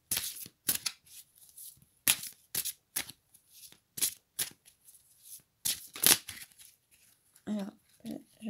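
Tarot cards are shuffled in a series of quick riffling bursts, close and crisp, with short pauses between them. A voice briefly speaks at the end.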